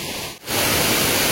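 A small waterfall in a forest stream pours with a steady, loud, broadband rush that briefly dips, then swells back to a full, continuous roar.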